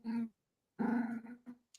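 A dog growls in low, rumbling bursts, one short growl then a longer drawn-out one, close by and fairly quiet, with a brief softer grumble trailing after.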